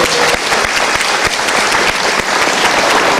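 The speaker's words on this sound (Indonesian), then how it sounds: "Kita berikan tepuk tangan dulu." Loud, close audience applause with crisp individual claps standing out from a thick, continuous crowd clapping that carries on evenly for the whole stretch.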